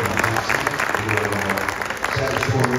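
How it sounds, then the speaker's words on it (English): An audience applauds tennis coaches at a college sports event, a crowd clapping warmly throughout with a few voices and cheers mixed into the sustained clapping. "So again, I give another round of applause, please, for Rachel Rutledge,"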